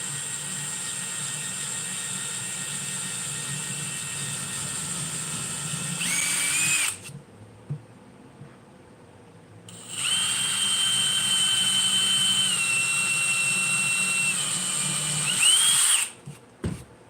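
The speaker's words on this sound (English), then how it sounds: "I just have to do some precision screwing here, precision carpentry here." A power drill drives screws into wood in two long, loud whirring runs with a short quiet pause between them, and the motor pitch shifts as each screw seats.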